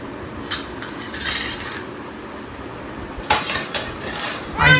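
A child sets a chapati container and dishes down in a home kitchen, making a few scattered clinks and clatters of metal and crockery, close and moderately loud, with no talking.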